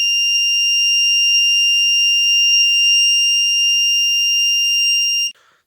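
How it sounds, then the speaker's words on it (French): A drawer alarm built on a micro:bit board sounds a continuous high-pitched electronic buzzer tone, steady and loud for about five seconds before it cuts off abruptly. "quand on ouvre le tiroir, on aura déclenchement d'une onde lumineuse et d'une onde sonore"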